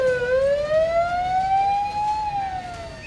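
An ambulance siren wails loud and close, its tone rising slowly and then falling in one long sweep over a low road rumble, with no talking.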